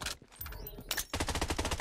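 Gunfire in the shooter game Blood Strike: a sharp crack followed by a rapid burst of repeated shots, loud and close.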